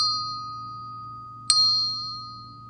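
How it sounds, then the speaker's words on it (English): A small hand bell rings once with a sharp struck onset in a music class, its bright tone ringing on and slowly decaying over a faint low hum, with no talking. "Let's take these two bells and let's see how they sound"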